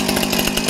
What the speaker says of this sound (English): you cannot go wrong with a chainsaw.